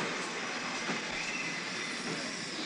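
A train at a railway station gives a faint, steady rumble of rolling rail cars, distant and even throughout, with no voices.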